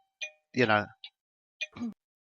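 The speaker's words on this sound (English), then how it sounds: "there's my doorbell." A quiet electronic doorbell chimes a few tones, with a person speaking briefly between the chimes.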